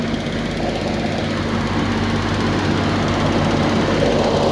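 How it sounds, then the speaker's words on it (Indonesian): The refrigeration engine of a Thermo King unit mounted on a Hino 235 truck runs steadily up close, a loud, constant droning hum with no breaks or changes in pace. "Oh, ini mesinnya di sini, Jon."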